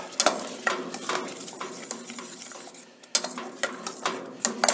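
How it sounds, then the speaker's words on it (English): A spoon scrapes and knocks against a pan while tomato sauce is stirred, in two bursts of repeated clinks and scraping strokes with a brief pause between, close and fairly loud, with no talking. "Stir it up."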